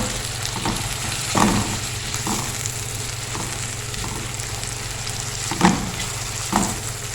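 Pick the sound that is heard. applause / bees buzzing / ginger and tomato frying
ginger and tomato frying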